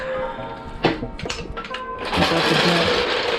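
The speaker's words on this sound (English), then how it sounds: "So what I want to do now is just lower the jack." A car jack is lowered under a 9th-generation Honda Civic Si during a serpentine belt change, giving mechanical clicks and ratcheting clunks that end in a steadier hiss of release, close by and with no voices.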